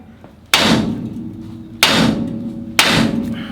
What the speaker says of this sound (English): I'm gonna swing and hit this with a hammer, so hopefully it'll break that rust and this thing will just drop down